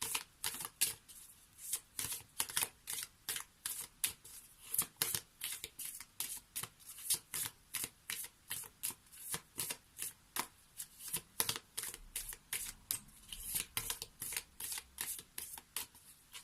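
Rhythmic, rapid riffling of an oracle card deck being shuffled, close and crisp, with regular bursts repeating steadily for the whole stretch and no voices.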